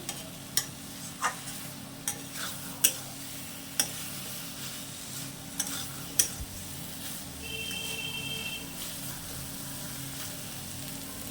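Banana flower curry with prawns stirred in a wok: a spoon scrapes and taps against the pan in irregular sharp clicks over a steady soft sizzle, close and alone.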